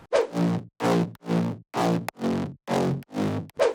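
Eight punchy bass house synth mid bass notes in a steady rhythm, each a thick, buzzy, layered tone with bright distorted upper harmonics, separated by short gaps.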